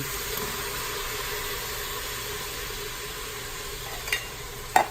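Tomatoes and green chilies from a can stirred into a hot, sizzling pot of black-eyed peas and sausage, a steady close frying hiss with a couple of sharp spoon scrapes near the end.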